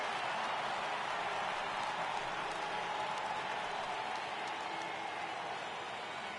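Simulated baseball stadium crowd in MLB The Show 18 during a Giants vs Astros game, a steady wash of distant cheering and murmur that holds at an even level throughout.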